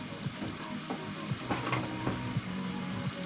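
Smoked scallops searing with noodles in a pan make a dense, continuous sizzle, with scraping and tapping strokes as the food is pushed around the pan, close and fairly loud.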